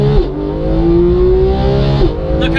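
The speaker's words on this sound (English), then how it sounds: "Look how fast we're going through the gears!" A Porsche 991.2 GT3's engine accelerates hard through the gears, a loud close-up howl rising in pitch with quick dips at each upshift, heard alone.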